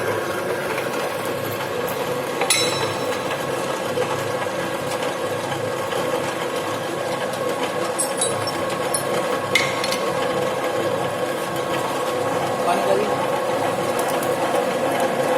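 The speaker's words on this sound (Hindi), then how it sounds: "बुल पिनियन मतलब जिस हिसाब से बैल चलता है उस हिसाब से ये ड्रिल मशीन चलता है।" A slow-running drill machine in a manufacturing lab gives a steady mechanical whir with faint ticking and clanking from its gears, broken by a few sharp metallic clicks, moderately loud and continuous.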